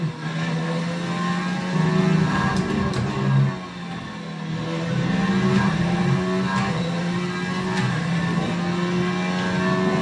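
A Ferrari race car engine in a racing video game holds a loud, sustained mid-pitched drone at the Austria circuit, with slight revs, a brief dip around the middle and faint clicks over the steady tone.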